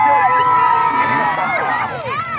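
A fairground crowd at a Lake County Fair motocross show roars and cheers continuously, dense and loud, with whistles and shouts rising over the din.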